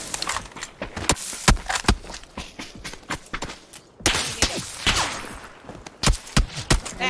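Gunfire in the battle-royale game PUBG, a loose run of sharp shots and bursts with thuds and footstep-like knocks in between, heard close and fairly loud with no talk over it.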